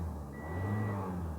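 A Toyota Yaris engine revs briefly after being restarted, following a no-start computer fault, giving a faint, steady motor hum heard alone with no talking.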